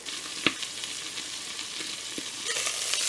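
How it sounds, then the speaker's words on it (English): Zucchini fritters sizzling in a covered frying pan give a steady, moderate frying hiss with a few faint pops and crackles throughout, no voices present. "And I'm going to cook on this side for about 3 or 4 minutes"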